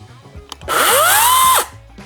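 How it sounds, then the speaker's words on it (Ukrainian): A chainsaw engine revs up sharply, holds a loud high-pitched whine for about a second, then cuts off, recorded close by. "Беремо пилу двома руками, запускаємо її"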